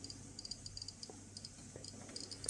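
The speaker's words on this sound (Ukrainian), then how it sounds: "Ви чуєте поклацання по щелчкам, як покази виросли." A Geiger counter dosimeter held near a radioactive packet gives off rapid, irregular clicks, faint but distinct over a quiet low hum.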